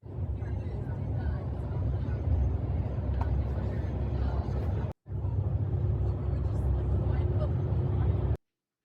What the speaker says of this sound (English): bus which gonna take us to Bath City